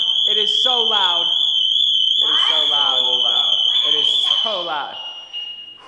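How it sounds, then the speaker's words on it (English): A loud, steady high-pitched electronic alarm tone sounds continuously while people talk over it close by; the car alarm of a McLaren 570S. "this has the most annoying car alarm. It is so loud."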